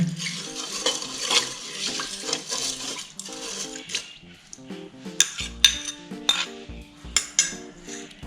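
A spoon stirs fried shallots through rice in an electric rice cooker pot, with repeated metallic clinks and scrapes against the pot, close and fairly loud, and no talking.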